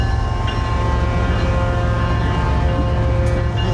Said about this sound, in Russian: Прибывает поезд, пока непонятно, куда он едет.